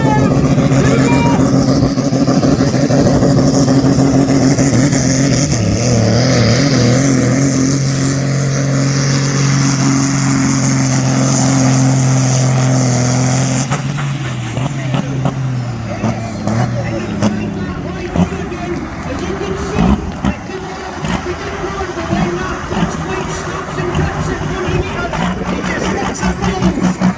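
A tractor-pulling competition engine at Brechin roars loud and steady at first, shifting in pitch around mid-clip, then dropping into rougher, fluctuating revving while a commentator talks over it throughout.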